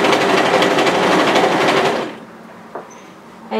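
Sewing machine stitching a cardigan seam, a steady rapid mechanical chatter running close and loud for about two seconds, then stopping, leaving a quiet room with a small click and a brief restart at the end.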